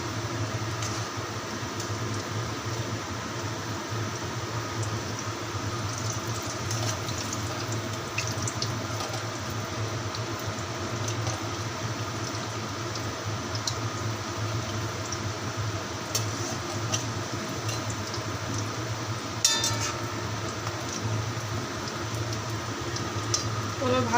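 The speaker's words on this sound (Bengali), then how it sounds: "তো আমি ধীরে ধীরে করে মাঞ্চুরিয়ান বলগুলো ভেজে নিলাম অল্প আঁচে।" Manchurian balls fry slowly in oil over low heat, a steady soft sizzle and bubbling running throughout with a constant background hum and a few brief clinks.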